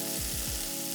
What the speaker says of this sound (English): But hot enough that this second side is searing nicely.